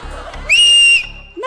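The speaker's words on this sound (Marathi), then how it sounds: "रागात म्हटल्यानंतर शिट्टी पण रागातच पाहिजे ना." A person gives a forceful whistle in a studio comedy setting: one loud, sustained whistled note of about half a second, set between quieter stretches of low voices and stage noise.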